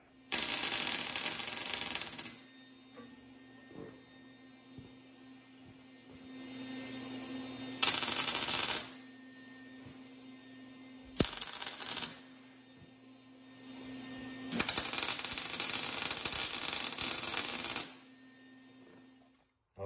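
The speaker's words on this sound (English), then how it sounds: "Let's go ahead and weld the back side." Welding zinc-plated threaded rod onto scrap steel for a makeshift Farmall Cub brake band rod: several separate bursts of loud, crackling arc noise over a steady low hum, with quieter pauses between the welds.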